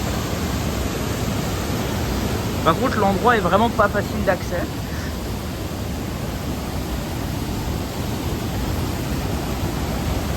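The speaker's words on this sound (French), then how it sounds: "Elle est super haute la cascade." A very high waterfall pours out a constant, dense roar that fills the whole clip. A person talks briefly over the steady rush.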